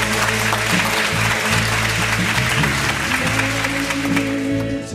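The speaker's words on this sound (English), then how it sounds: "Another big round of applause." A church congregation gives a big round of applause, dense steady clapping that fills the whole stretch at close range, then trails off slightly at the end with no voices.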